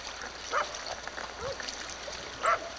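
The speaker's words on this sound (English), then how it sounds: "Yuri always brings his dog on trips like this as a warning dog" On a paddling and fishing trip on the Jama River, a dog gives two short, sharp barks a couple of seconds apart over steadily flowing water.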